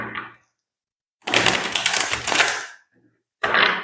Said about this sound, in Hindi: let's shuffle up your cards